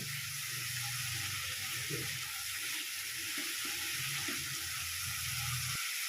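Spice paste for a fish curry frying steadily in a pan, a constant even sizzle and hiss held at moderate level throughout with no talk.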